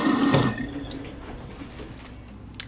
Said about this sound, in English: I'm now rinsing the meat in the cold, fresh water